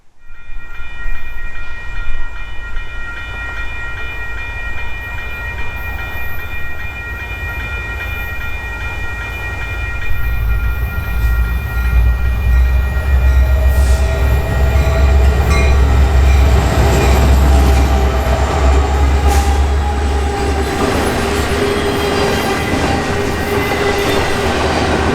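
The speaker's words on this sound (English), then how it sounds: "another train began making its way across the diamond." A freight train rumbles through a grade crossing at Rochelle Railroad Park, a steady heavy roar that builds midway with wheel clatter and faint horn tones, loud and continuous.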